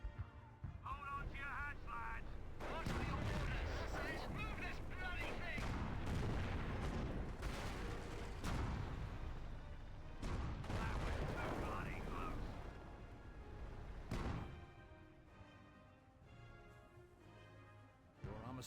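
An artillery barrage in a video game, a continuous rumble of heavy booms and rolling blasts from near and far, with people talking over the bombardment.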